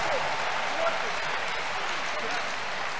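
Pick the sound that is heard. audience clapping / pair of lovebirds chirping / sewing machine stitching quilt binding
audience clapping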